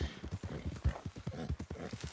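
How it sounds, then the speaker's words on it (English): Hooves of a Missouri Foxtrotter horse clip-clop in a steady, rhythmic gait while being ridden in Red Dead Redemption 2 Online, close and clear with no talking. "Right now, I'm riding the Missouri Foxtrotter."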